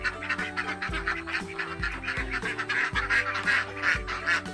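A flock of 46 ducks on a small duck farm quacks in rapid, overlapping bursts, loud and close, with harsh repeated calls stacking over one another continuously.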